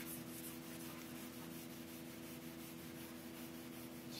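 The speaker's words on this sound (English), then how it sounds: "just wrap that paper around, and then you come along and you polish it up" Quiet, continuous rubbing as ski wax is polished on a ski base using a cork or paper wrapped around a flat block, steady strokes under a low mechanical hum.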